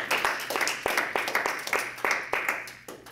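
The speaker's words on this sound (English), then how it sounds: "So give him a round of applause" A small audience at a network marketing meeting claps for Arliss, a brief scatter of close, uneven hand claps that tapers off toward the end.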